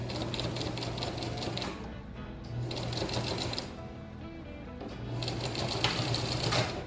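A sewing machine runs a back stitch while finishing a continuous placket, in three steady bursts of rapid needle chatter separated by short pauses.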